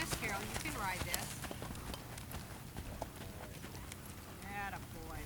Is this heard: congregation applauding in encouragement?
no